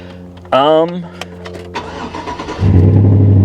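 An old GMC RV engine cranks and catches, then settles into a steady, rumbling idle with a deep exhaust note, with voices talking over it.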